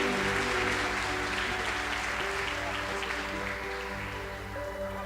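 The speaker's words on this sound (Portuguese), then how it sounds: "aplauda Jesus pela vida da Heloísa." Church congregation applauding steadily at a worship service, a dense continuous wash of clapping over sustained music tones, loud throughout and gradually easing slightly.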